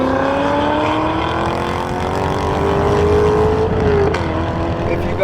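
A stock 2009 Chevrolet Corvette C6 Z06 with a Corsa catback exhaust holds a steady, loud engine drone at a fairly even pitch throughout, easing slightly near the end as the revs shift.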